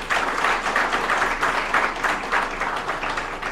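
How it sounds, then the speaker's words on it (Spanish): Audience at a municipal accountability event applauding, a dense, loud and continuous roar of many people clapping that holds steady throughout without speech. "aplauso para la cancha de los Castillos."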